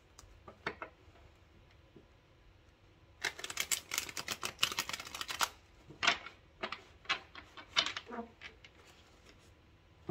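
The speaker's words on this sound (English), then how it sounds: "Okay, one more shuffle," Tarot cards being shuffled by hand during a reading, giving soft riffling bursts and scattered crisp clicks and taps, close and fairly quiet, with a dense flurry in the middle and no talking.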